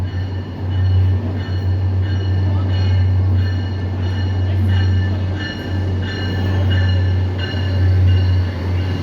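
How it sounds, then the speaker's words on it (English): Orange line subway train rolling slowly over a track switch near Oak Grove, a loud steady low rumble with faint repeated rail clicks throughout, with no talk. "The train is still in the process of"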